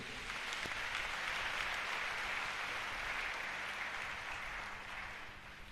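A church congregation applauds at a sermon, a broad wash of many hands clapping at moderate distance, steady and even for several seconds with a slight fade toward the end.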